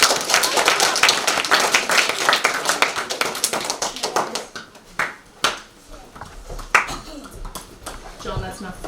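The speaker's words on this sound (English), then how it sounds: "One big clap for our award." Students clapping at a school assembly during an award presentation, dense brisk applause that thins out into scattered individual claps, with voices heard faintly underneath.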